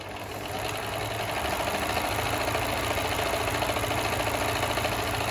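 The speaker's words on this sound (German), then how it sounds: "also Sie sehen, wie schnell eigentlich die Nähmaschine ist" A Privileg Topstar Electronic 860 sewing machine runs at speed, giving a steady, fast mechanical chatter and hum that stays even and close for the whole stretch, with no talking.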